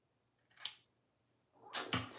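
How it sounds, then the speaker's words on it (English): Scissors snip through knotless braids twice, close and crisp, with a short silent gap between the two cuts. "Snip, snip."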